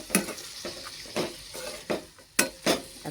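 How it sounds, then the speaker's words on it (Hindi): Tomatoes frying in a pan for a Hyderabadi tomato chutney, stirred with a utensil that gives several sharp scraping clacks over a low sizzle. "अच्छे से टमाटर भूनेंगे गाइस"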